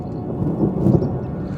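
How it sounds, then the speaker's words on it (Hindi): Thunder rumbling over the Margalla Hills, a deep, low, rolling roar that swells toward the middle of the short span and then eases slightly, with no talking over it. "बादल आ गए हैं बहुत स्पीड से और बड़े ज़ोर से गरज के डरा रहे हैं"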